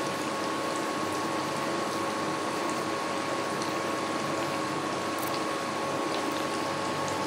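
Cabbage pakoras fry in hot oil with a dense, even bubbling hiss that stays steady and close throughout, with no break and no voices.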